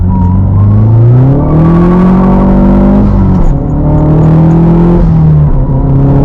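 A modded Mazdaspeed car accelerating hard in second gear, the engine note climbing loud and close, dipping briefly at a shift-like break, then rising again.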